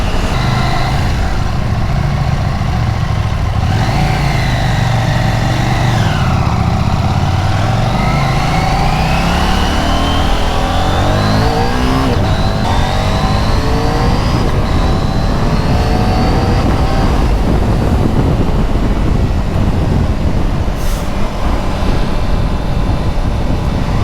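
A Husqvarna Svartpilen 801 motorcycle engine revs steadily upward, its pitch climbing and sweeping as the throttle opens, loud and close throughout with no talking.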